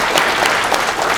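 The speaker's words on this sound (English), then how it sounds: "Round of applause, please." Audience applause at a talk on articulating thoughts clearly, a dense, steady wash of many hands clapping close and loud for the whole moment, with no speech over it.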